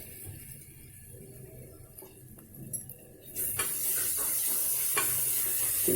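Spices being fried and stirred in a pan for a veg egg curry with turmeric and salt: soft scraping and stirring clatter, then a loud, steady sizzle surges in and carries on to the end.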